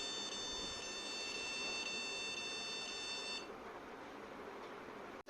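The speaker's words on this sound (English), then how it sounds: "the motion sensor will detect and sound the warning alarm" A smart blender's motion-sensor warning alarm beeps as a steady high electronic tone for about three and a half seconds, then cuts out, leaving low background hiss.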